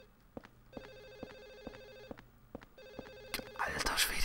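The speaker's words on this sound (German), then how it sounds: "dieses Telefon geht mir schon ein bisschen auf den Geist" A telephone rings repeatedly in Silent Hill 4: The Room, a steady electronic bell pattern repeating every half second or so, moderately loud and alone, before a burst of noise at the end.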